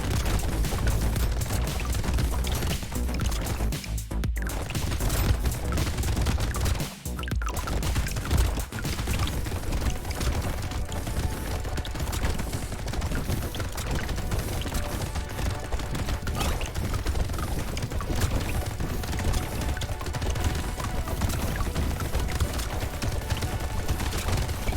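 Turrets in the Brotato game fire without pause, a dense, fast rattle of small shots that runs for the whole stretch with no break, loud and busy, with no speech over it.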